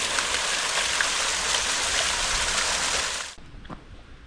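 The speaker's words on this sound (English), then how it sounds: "And all this water here running off the fields" Water runs off fields into the portal of Queensbury Tunnel in a loud, steady rushing stream that cuts off abruptly near the end, leaving quieter trickles and drips.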